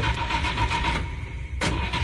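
A car's engine cranks and turns over after a crash in a Honduran radio drama, a steady broadband mechanical churn with a sharp burst near the end, close and loud with no talk.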